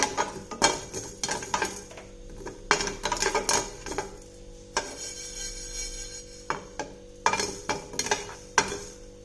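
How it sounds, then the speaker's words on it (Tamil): Fenugreek and mustard seeds dry roasting in a pan without oil for a village-style fish curry, with clattering spoon-and-pan scrapes and faint crackle in irregular bursts, close by, no voices. "இப்போ ஒரு பாத்திரத்தை அடுப்பில் வச்சு எண்ணெய் ஊற்றாம இந்த பொடிக்கு வறுத்துக்கலாம்"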